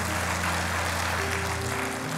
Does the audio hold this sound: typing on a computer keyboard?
no